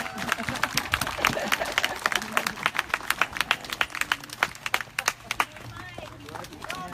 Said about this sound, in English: he loves applause.